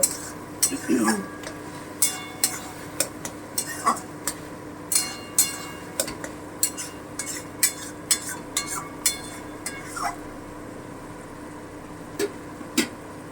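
Ridge gourd sautéing uncovered in oil in a pan, with steady clinks and scrapes of a stirring spoon against the pan roughly every second over a low background, and no talk.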